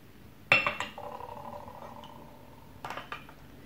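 Tea dishes being prewarmed before a tea ceremony, with a couple of bright clinks of porcelain near the start and another short cluster of clinks later, close and clear in a quiet room.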